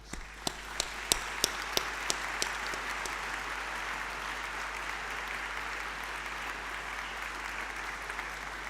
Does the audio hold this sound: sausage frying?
no